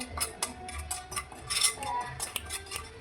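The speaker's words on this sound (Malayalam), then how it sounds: "ഇനി ഇതൊന്ന് മിക്സ് ആക്കാം" A spoon clinks repeatedly against a bowl while an egg mixture is stirred for an egg fry snack, with quick, bright taps in an irregular rhythm, close and fairly faint, and no talking.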